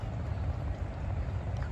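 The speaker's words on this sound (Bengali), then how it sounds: "এই যে ট্রলার আসতেছে দেখেন।" A river trawler approaches, its engine a steady low rumble that holds throughout, with faint water noise over it and no voices.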